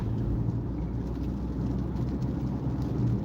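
Rain drums steadily on a Ram 1500 pickup truck crawling at about 25 mph on the I-94 expressway, a constant hiss over low road and engine rumble, no voices.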